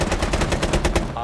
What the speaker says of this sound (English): I hear like just nonstop gunshots out there